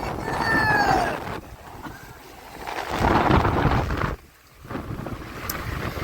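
A coastal storm in Jaffna, Sri Lanka, with strong wind and rain off the sea that is pushing water onto the road. Loud gusty roaring and buffeting hit the microphone and swell and drop, with a brief lull partway through.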